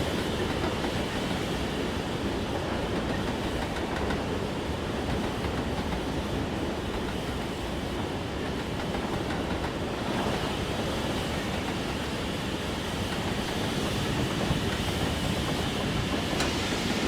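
A Peppercorn K1 steam locomotive hauling Bogey Bolster wagons in Train Simulator on the Kelvin and Blane Valley route, giving a steady rolling rumble and wind-like rush that runs unbroken and even for the whole stretch.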